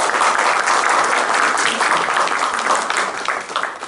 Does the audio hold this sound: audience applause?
yes